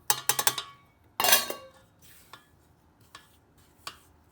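A utensil knocks and scrapes against a bowl as flour is stirred into craquelin dough, with several quick clinks at the start, a louder scraping burst, then sparser taps, and no talking.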